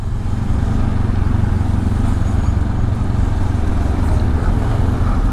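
A Honda CL500 motorcycle rides through city traffic with a steady, close engine drone and low rumble mixed with road and wind noise, and no clear gear changes.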